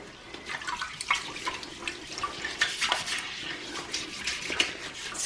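A brush scrubs a dirty toilet bowl in water, giving irregular splashy swishes and sloshing strokes at close range, with no talking.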